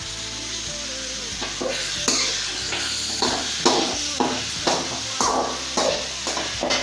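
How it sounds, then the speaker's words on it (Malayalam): Chopped shallots and onions sizzle steadily in a hot pan for a chicken thoran, with repeated scraping stir strokes every half second or so, close and fairly loud, no voices. "നമ്മൾ കൊച്ചുള്ളി വഴണ്ട് ഇന്നത്തോട്ട് സവാള ഇട്ട് കൊടുക്കുകയാണ്"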